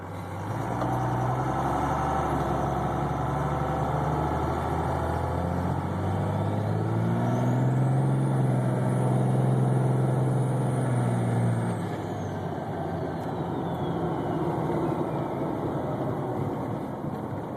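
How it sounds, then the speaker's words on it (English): Diesel truck with S362/S475 twin turbos driving and accelerating, engine rumble rising as the turbos spool up into a high whistle that climbs, holds and fades; loud and close, inside the cab, with no talking. "Pretty quick spooling twins, comparable to stock."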